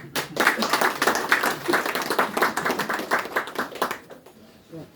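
A crowd at an outdoor monument unveiling ceremony in a Gurkha memorial park gives a round of dense, lively hand clapping that holds for several seconds, then thins out and fades near the end.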